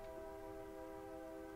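A distant train sounds a sustained, steady horn tone, faint and continuous for the whole brief moment.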